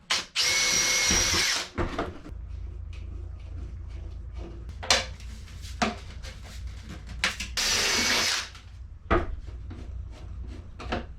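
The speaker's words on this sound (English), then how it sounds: "I'm going to put a few little sheet metal screws in just to make it extra tough" A power drill drives small sheet metal screws into wood on a wooden boat restoration job, with two loud, sustained whirring bursts at the start and near the end. Quieter clatter and handling knocks fill the stretch between them.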